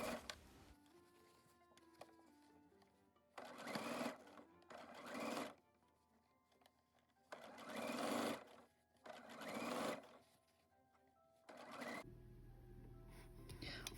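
A sewing machine stitches an ironing board cover in five short bursts of rapid mechanical whirring separated by quiet pauses, close and moderately loud.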